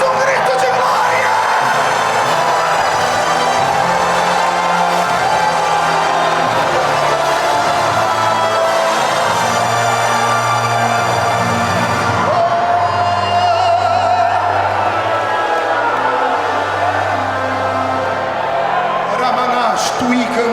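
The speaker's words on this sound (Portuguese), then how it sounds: "Só quem crê nisso dá mais um grito de glória." A church congregation shouts in praise, a loud, continuous roar of voices, cheers and whoops that rises and falls over about twenty seconds, with a low rhythmic backing underneath.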